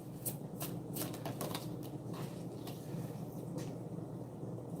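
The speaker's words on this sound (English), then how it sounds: "y'all saw me shuffle, right?" A deck of tarot cards being shuffled close by, a steady run of crisp riffling flutters and soft card slaps with no talking over it.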